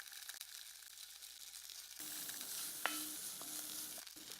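Ginger, garlic and chili hit hot oil in a pan and start frying for soya haleem with red lentils, a quiet bright sizzle that jumps up suddenly and holds, with a few light clinks of a utensil.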